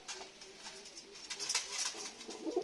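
Lakka pigeons, including a black one, coo softly at close range in a steady low murmur, with faint higher bird calls scattered over a quiet background.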